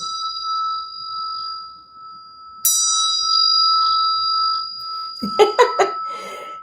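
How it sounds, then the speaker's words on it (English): A Balinese ceremonial bell rings out with a steady, shimmering tone that sustains, then is struck again brightly, ending with a few short clinking strikes. "This is just a straight ceremonial bell from Bali."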